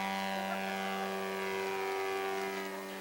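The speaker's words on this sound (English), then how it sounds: "The Flying Tigers Remote Control Club in Lake City has some 45 members that love flying their model planes." Remote-control model airplanes fly at a club field in Lake City, giving a steady, droning engine whine with layered harmonic tones and a slight pitch drift as they pass at a moderate distance.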